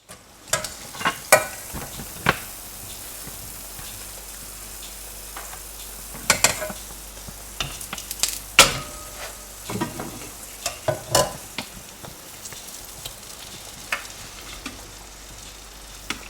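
Oil sizzles with a steady soft crackle while deep-frying athirasam sweets, broken by scattered sharp pops and clinks, close by with no talking.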